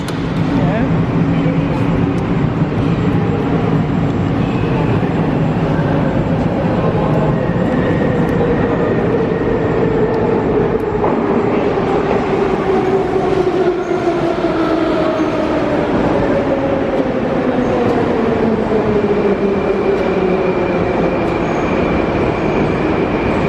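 Metro train in a Tashkent subway station in Uzbekistan, a steady loud rumble of wheels on rails with a falling electric motor whine as it runs through, filling the whole stretch.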